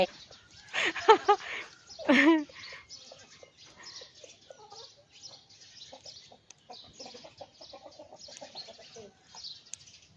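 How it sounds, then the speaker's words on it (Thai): Chickens cluck and a rooster calls near a rural farmyard with cattle pens, a few loud bursts early on, then softer scattered clucks and rustling in the background. "ไก่"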